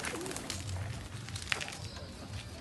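Karna breed pigeons cooing in low, repeated throaty calls at a pigeon loft in Teynampet, Chennai, close by, with someone speaking over them.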